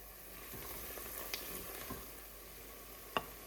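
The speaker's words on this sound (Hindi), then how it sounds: "प्याज डाल लेते हैं, प्याज को ब्राउन रंग आने तक पकाना है।" Onions and whole cumin seeds frying in hot oil for beef karahi give a faint, steady sizzle, with a few soft clicks of a utensil against the pan.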